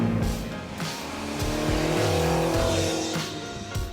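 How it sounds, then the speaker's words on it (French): Light DB or Panhard sports car with a two-cylinder engine revving and accelerating past, rasping engine tone with gear changes and quick pitch swings, moderately distant, heard alone. "Les légères sportives propulsées par leur bicylindre au bruit si particulier"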